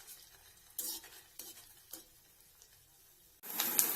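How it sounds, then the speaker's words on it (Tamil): Rice bonda balls made from leftover rice fry in hot oil in a kadai, a quiet sizzle marked by a few scattered clinks and stirring taps, then a louder burst of bubbling near the end. "கடாயில் எண்ணெய் வச்சு சூடான உடனே இந்த பால்ஸை ஒவ்வொன்றா போட்டு நம்ம எடுத்துக்கலாம்"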